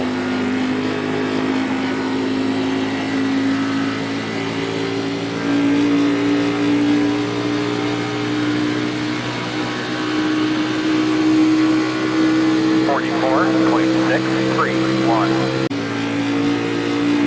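NASCAR Xfinity race car engines in the iRacing simulator at Auto Club Speedway, a sustained loud engine drone with shifting pitch and other cars passing, under continuous commentary talk.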